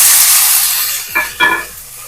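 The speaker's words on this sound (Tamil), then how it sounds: "இப்போ நம்ம அந்த வெந்தயக்கீரையை இதில் போட்டு வதக்கிக்கிடுவோம்" Fenugreek leaves tossed into a hot pan with torn chili pieces hiss and sizzle, the steady fizz fading before two short bursts of crackling sizzle as the greens are stirred.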